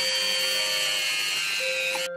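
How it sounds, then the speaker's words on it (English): Small power drill boring holes into the backs of doll bodies, a thin high steady whine lasting about two seconds before cutting off abruptly. "I drill the holes in their backs to attach the wings later."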